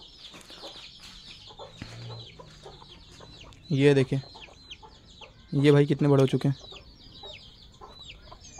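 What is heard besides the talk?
chickens clucking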